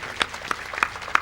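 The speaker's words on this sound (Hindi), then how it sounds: "सभी भाई बहन ताली बजाते हुए इस मंगल घड़ी को और अधिक शुभ" Crowd clapping at a Hindu ground-breaking ceremony (Bhumi Pujan) in Pilani, a few scattered, separate claps in a short burst, moderately close.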